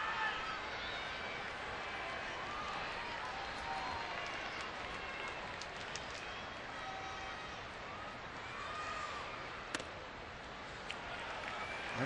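A baseball crowd at a Padres game applauds in a soft, distant, continuous patter that runs steadily throughout with a few faint shouts, no voices standing out above it.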